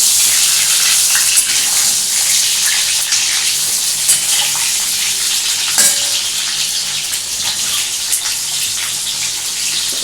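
Eggplant fries in a pan with a strong, continuous hiss, stirred now and then with faint scrapes and a clink, loud and close throughout.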